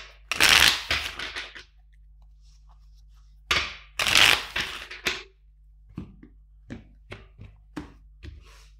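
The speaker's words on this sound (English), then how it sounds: "Two more shuffles." Tarot cards are shuffled in two quick riffling bursts, followed by a series of soft taps as the deck is squared and handled.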